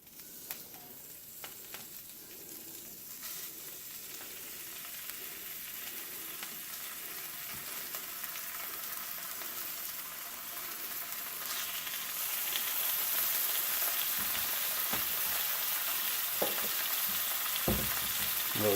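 Strips of homemade cured, smoked bacon sizzle and crackle steadily in a pan, a continuous close fry that grows louder partway through, with a few clicks and taps of handling over it.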